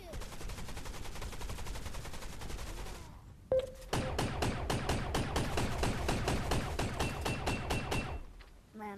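Rapid bursts of automatic gunfire from the video game Gun Raiders, dense repeated shots filling most of the stretch after a brief pause, loud and close.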